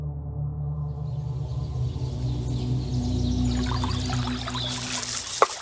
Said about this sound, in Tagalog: Lumuhod siya sa tabi ko at tinapik-tapik ang tubig.